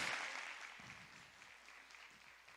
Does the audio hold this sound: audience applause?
yes